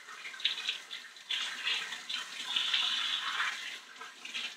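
Tap water runs steadily over the MioMat grinding cylinder as it is rinsed clean, a bright, hissing splash that surges and shifts as the flow hits the metal.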